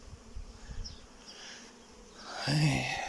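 Carniolan honeybees in moderate flight bringing in nectar, a soft buzzing hum of many insects around the hive, swelling louder near the end as bees pass close.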